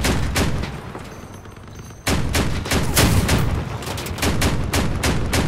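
Vehicle-mounted machine guns fire in the combat game Crossout, loud rapid bursts of shots with a brief lull before the barrage resumes even harder and keeps hammering to the end.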